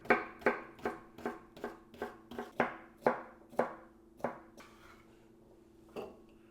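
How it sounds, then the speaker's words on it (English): Knife chopping celery on a cutting board, a brisk run of about a dozen sharp, evenly spaced knocks that thin out and slow toward the end, close and clear with no talk. "I normally will cut it in half and then do a third, and then like this in the middle, split it into fourths"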